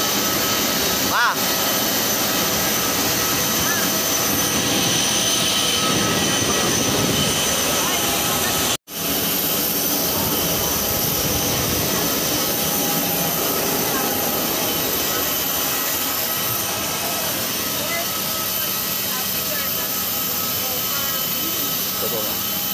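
Steady jet engine roar filling an airliner cabin on a flight back to Manila, a broad constant rumble and hiss throughout, with one brief dropout partway and faint voices beneath.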